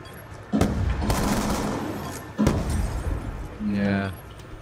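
Video game gunfire in Fortnite or Black Ops 2 comes as a few sharp, loud shots spaced apart with echoing tails, and a voice is heard briefly near the end.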